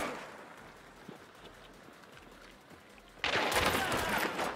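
Video game gunfire, with an enemy shooting through a wall at the player. A quiet, rustling stretch gives way to a sudden, sustained loud burst of rapid fire for the last second or so.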